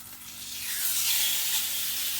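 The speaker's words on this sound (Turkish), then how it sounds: "Döküm tavamız iyice ısındı. Şimdi etimizi koyuyoruz." Meat is laid into a hot cast iron pan and a loud, close sizzle swells up within a second, then holds as a steady hiss.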